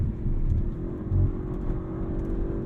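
A 2022 Audi RS5 Sportback engine pulls hard out of a corner on twisty roads, heard as a steady low droning rumble from inside the cabin, with no voices.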